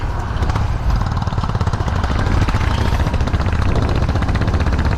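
A Honda Highness motorcycle climbs sharp bends on hill roads at Mukteshwar, Uttarakhand, its single-cylinder engine thumping loud and close in a rapid, steady beat with no talking.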